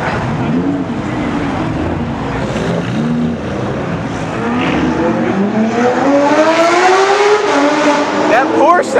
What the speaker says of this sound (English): I hear the Huracan down here.